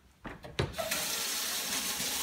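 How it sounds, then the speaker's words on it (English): A few clunks, then a tap opens and water gushes steadily into a container, a close, continuous hissing pour. "And now I'm going to go ahead and fill this with water."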